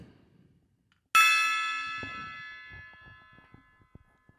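A single gong strike opens a guided meditation, a bright shimmering tone ringing out and slowly fading over several seconds in a quiet room.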